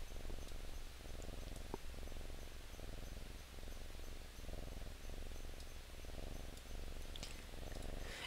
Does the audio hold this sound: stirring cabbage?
no